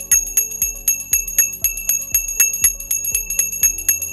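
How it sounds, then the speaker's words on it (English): A small bell rings repeatedly in a steady, quick rhythm, each strike sharp and bright with a short ringing tail, fairly loud and close with no talk over it. "You need to get a better bell than that."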